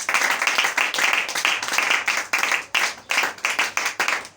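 A church congregation claps for its president in steady, rhythmic unison, the dense claps sounding close and lively.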